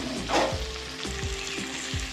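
Potatoes with turmeric and salt crackle in hot oil while a spatula scrapes the pan in a few quick, regular strokes, heard close and without any voices.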